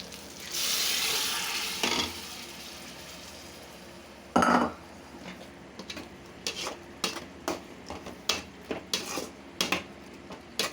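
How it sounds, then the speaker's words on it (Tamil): Boiled bamboo shoots tip into a pan, starting with a soft rushing pour and a loud clatter, then a run of sharp scraping and tapping of utensil against pan with quieter gaps. "இதை எடுத்து இதில் கொட்டிக்கலாம்"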